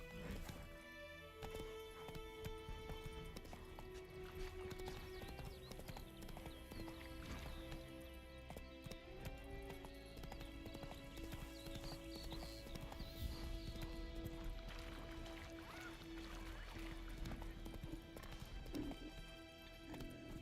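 Hooves of a galloping horse clip-clop in a steady rhythm in The Witcher 3, with a whinny and game music underneath, fairly faint overall.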